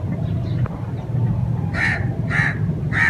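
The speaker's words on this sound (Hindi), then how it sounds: "वो देखो अभी भी कौवा यहां फिर रहा है" A crow caws three times in a quick, evenly spaced series of loud, harsh calls, heard close over a low background rumble.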